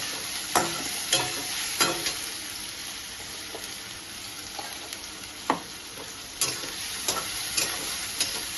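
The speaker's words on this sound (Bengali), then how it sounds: "এই পেঁয়াজটা আমি বেশি ভাজবো না, একটু নাড়াচাড়া করেই আমি চিকেনটা দিয়ে দিব।" Onions sizzle in a pan for a Bengali country chicken curry, stirred with spatula scrapes and knocks at an uneven rhythm over a constant close frying hiss, with no speech.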